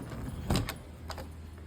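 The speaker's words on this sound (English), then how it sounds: "So let's open the door" The door to a music and card room is opened, giving a brief close clunk of the latch and handle with a second lighter click a moment later, in a quiet room.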